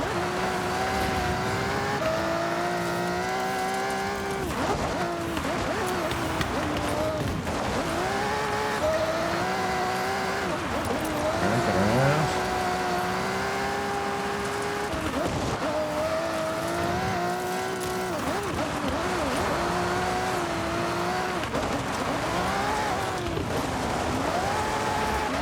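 A car engine drones and revs in Forza Horizon 6 during a long rally event, with a steady buzzing note rising and dipping through gear changes and occasional tire squeals, continuous and close.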